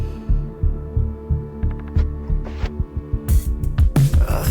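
A thuddy, muffled snare drum pounds in a steady rhythm inside a song, its deep hits layered over sustained music, with the beat growing busier and denser toward the end.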